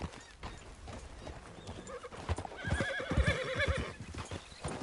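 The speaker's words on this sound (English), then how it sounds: "that's a nice-looking horse you have there." A horse's hooves clop unevenly on the ground, close by, and the horse gives a clear, wavering whinny in the middle of the hoofbeats.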